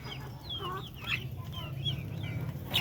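Darag native free-range chickens cluck and chatter close by on a Philippine farm, with repeated short calls over a steady low background hum and no talk.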